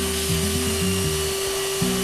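A high-pitched rotary power tool grinds steadily through layered fiberglass while beveling the edge of a thru-hull hole on a boat hull, its whine shifting in pitch as it bites, close and continuous with no talk.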